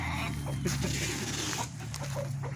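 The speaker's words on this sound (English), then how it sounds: "Those are blue slate turkeys, and those are bourbon red turkey." Bourbon Red and Blue Slate turkeys at a farm give soft clucking and gobbling calls, several short bursts close by over a constant low hum of background noise.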